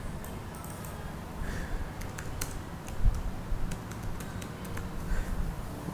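Soft, scattered keystrokes on a computer keyboard tick over a low background hum, light and irregular rather than a fast run.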